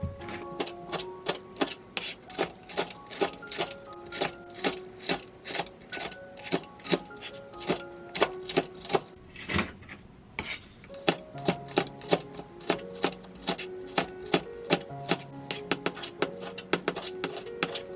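Green onions sliced with a knife on a cutting board, a long run of crisp, evenly paced chops close up, pausing briefly midway before resuming at the same rhythm.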